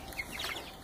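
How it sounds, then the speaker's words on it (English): Three-week-old baby chickens make faint, brief clucking chirps close by, a couple of soft calls over quiet background. "here's some of our new baby chickens that we got about 3 weeks ago"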